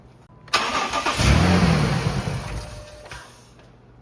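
The engine of a 2005-2011 Dodge Dakota cranks and catches, surging loudly, then settling into a steady nearby idle that gradually quiets before cutting off.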